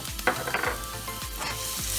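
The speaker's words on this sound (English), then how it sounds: "That's just frying." A clove of garlic sizzles steadily in hot olive oil with vegetables, with a few soft stirring scrapes in the pan.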